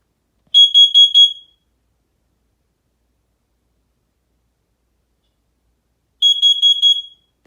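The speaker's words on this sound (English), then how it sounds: "here comes the smoke alarm test" A smoke alarm sounds during a test, giving two separate groups of four shrill, piercing beeps several seconds apart, with silence in between.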